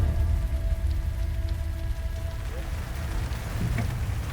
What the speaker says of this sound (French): à mon arrivée, les pluies étaient toujours bien présentes.